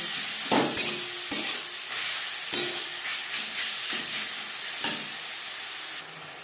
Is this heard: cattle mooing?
no